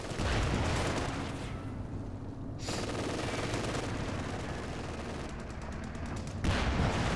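Gunfire rattles in a Company of Heroes 2 battle, with dense bursts of shooting and loud rolling blasts that fit a P-47 rocket strafe, all continuous with no speech.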